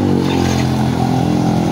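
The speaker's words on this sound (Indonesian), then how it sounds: "Motor kita hidupkan." A motorcycle engine runs close and loud during a check of its wiring, a steady low rumble with an even, throbbing pulse that continues without a pause.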